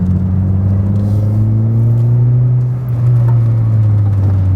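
A 2002 Peugeot 106 S16 GTi driving on a winding road, its engine note loud and close, rising in pitch as it pulls, easing off briefly and then picking up again.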